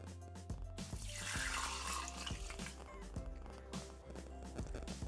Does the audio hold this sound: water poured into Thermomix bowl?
yes